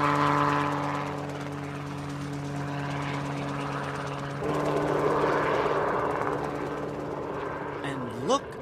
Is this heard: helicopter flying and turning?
yes